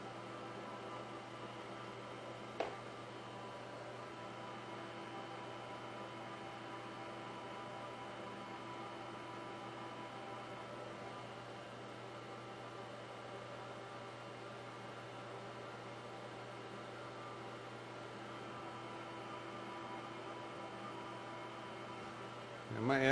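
A milling machine runs on power down feed while knurling a workpiece, its motor giving a steady, even hum with a constant drone from start to finish and one brief click early on.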